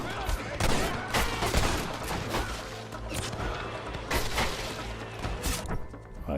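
A Winchester rifle fires in Red Dead Redemption as part of a dense, loud gunfight, with shots cracking in rapid bursts over constant rumbling battle noise.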